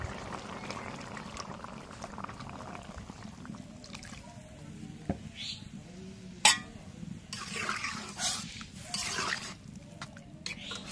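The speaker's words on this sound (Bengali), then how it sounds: "একটু পানি দিয়ে দিই এখন।" Water is poured into a simmering pot of bottle gourd curry, a steady liquid rush over a low bubbling background, fairly close and moderately loud.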